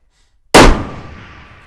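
A single loud rifle shot at an outdoor shooting range, a sharp crack followed by a decaying echo, with no talking.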